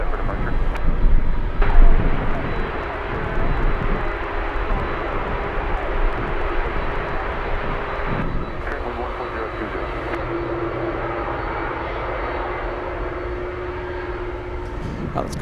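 Boeing 747 at Anchorage airport on a gusty day, a broad steady roar of aircraft engines that rises briefly, then continues at a fairly even level, with voices talking intermittently over it.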